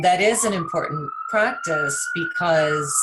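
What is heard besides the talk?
police sirens in the background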